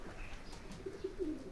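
Racing pigeons coo softly nearby, a few low throaty coos near the end over faint background noise.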